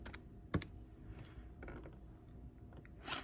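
Typing on a computer keyboard while entering a maths graph equation: a quiet, close run of scattered key clicks, with one sharper tap near the start.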